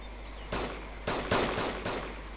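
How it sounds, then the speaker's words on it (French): SKS rifle fire rings out in the DayZ video game, four loud sharp shots spaced unevenly over a couple of seconds, with no voices. "les tirs de SKS sont de plus en plus forts"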